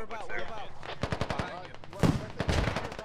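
Gunfire in a military video game, rapid bursts of automatic fire in quick rhythmic volleys, close and loud, with a heavier report near the middle and chatter underneath.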